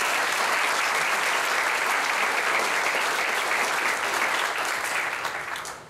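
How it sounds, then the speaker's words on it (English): An audience at an alumni spring reunion at Northwestern Oklahoma State University breaks into sustained, dense applause that holds steady and loud for several seconds before tapering at the end. "let's just take a moment to give them a big round of applause for all of that"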